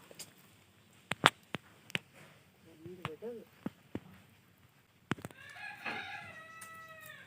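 A chicken being seized by a cobra clucks in sharp, separate bursts, then gives a longer drawn-out call near the end, fairly close.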